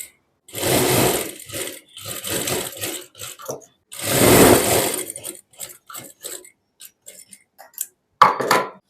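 A sewing machine stitches a shirt sleeve in several bursts, each a dense, fast mechanical whir lasting about a second, separated by pauses and light handling clicks, loud and close with no talking.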